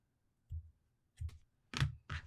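Yarn being cut off while making a hat, heard as four distinct close snipping clicks spaced out over about two seconds in an otherwise quiet room.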